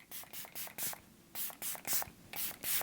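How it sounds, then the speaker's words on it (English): Hard Candy Look On Lock setting spray is misted in repeated short pumps, close and soft, about eight quick hissing bursts in uneven pairs and groups with brief gaps between them. "This is the Hard Candy Look On Lock Setting Spray."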